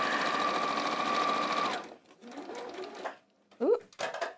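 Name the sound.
sewing machine stitching a skirt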